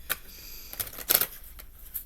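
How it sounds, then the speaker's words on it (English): Tarot cards being shuffled by hand give a few quick papery riffles and flicks, the loudest burst near the middle, close up and fairly quiet with no talking. "I'm going to shuffle these again."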